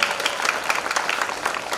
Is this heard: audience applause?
yes